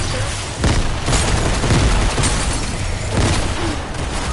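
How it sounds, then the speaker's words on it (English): Grenade explosions in a video game rumble as loud, heavy booms with a crackling burst tail, a couple of blasts rolling together in a continuous roar without talk. "Those are my grenades."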